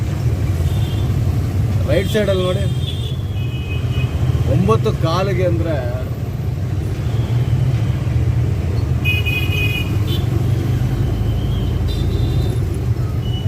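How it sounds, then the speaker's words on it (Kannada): Busy morning road traffic in Lingarajapuram around 9:15 am, with traffic police present: a steady low rumble of engines and vehicles passing nearby, with a few short horn toots scattered through it, while someone talks over the noise. "ಎಷ್ಟು ಗಾಡಿಗಳು ಬರ್ತಿದೆ ರೋಡಲ್ಲಿ"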